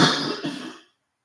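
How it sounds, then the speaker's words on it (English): A single throat clearing, a short rough burst with a second pulse, close and fairly loud, then silence. "Let me clear my throat."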